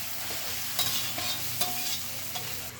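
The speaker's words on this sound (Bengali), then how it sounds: "ভালো করে মশলাটা আমি কষিয়ে নেবো এবারে" Masala with green chillies sizzling in a pan while being stirred for chicken keema, a dense close fry hiss broken by a few spatula scrapes and knocks, no voices.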